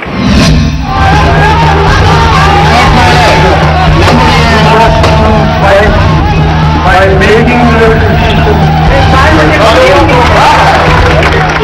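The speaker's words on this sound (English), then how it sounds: "Big crowds, long speeches and slogan shouting" A big political rally crowd fills the air with dense, loud, continuous babble, shouts and chanted voices, close and overlapping, with a steady low hum beneath.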